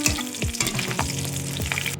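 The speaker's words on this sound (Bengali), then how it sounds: "এটাকে আমি এখন একটু ভালো করে জিরেটা ভেজে নেব।" Cumin seeds, a green chili and a bay leaf fry in hot oil as a tempering, giving a close sizzle with rapid pops and a few spoon scrapes in a short burst, no voices.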